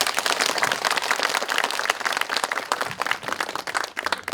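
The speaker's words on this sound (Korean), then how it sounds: "다시 한번 큰 박수 쳐주시고" Warm applause from a seated audience at the end of a lecture, a dense burst of many hands clapping close by, fairly even throughout with slight fluctuations.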